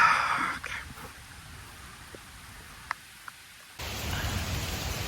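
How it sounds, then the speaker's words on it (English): Heavy rain pours down outdoors in a steady hissing wash. It dips quieter for a few seconds, then surges back louder and fuller near the end. "look at how hard it's raining"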